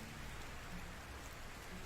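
Rain falling in the video game Medieval Dynasty, a dense, even hiss of steady downpour on surfaces, constant and moderately loud with no talking.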